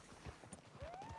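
Hooves of a Kentucky Saddler horse clop at a slow walk in the video game Red Dead Redemption 2, four soft, low thuds over a quiet background with a faint rising tone.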